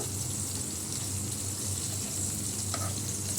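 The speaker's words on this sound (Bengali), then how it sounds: "এখন এখানে একটু আদা বাটা দিচ্ছি, তেজপাতা ফোড়ন তো আগিয়ে দিয়ে দিয়েছি।" Ginger paste sizzling in hot oil in a pan over a bay leaf tempering, a steady close frying hiss with a faint low hum beneath and a small clink near the end.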